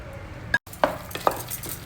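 Jaggery syrup being stirred into mashed rice and dal in a pot over a low flame, with a few soft wet scrapes and clicks against a quiet sizzle.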